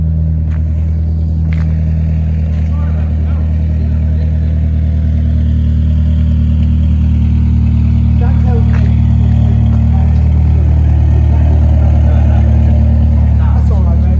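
A cold Honda S2000 engine idling with a Tegiwa decat pipe fitted: a loud, steady, deep droning rumble held throughout, with faint voices talking in the background.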